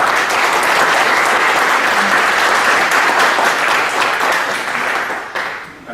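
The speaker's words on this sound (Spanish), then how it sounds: "para quien pido un fuerte aplauso." A loud, sustained round of applause from an audience at a legal conference honoring a Supreme Court justice, dense clapping that stays strong throughout and thins out in the last second.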